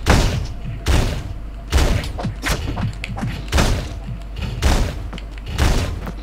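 Shotgun blasts from the top-down roguelike game Teleglitch, six heavy booming shots fired at a steady, roughly one-per-second rhythm, each thudding loudly with a short decaying tail amid busy game noise.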